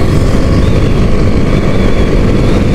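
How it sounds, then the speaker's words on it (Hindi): A motorbike engine runs steadily in fourth gear at about 58 km/h, a loud, continuous close-up drone with rushing wind noise and no break in pitch or level. "इस स्पीड में फिर से जो मेरे बाइक का इंजन है वो मुझसे नेक्स्ट गियर की डिमांड कर रहा है"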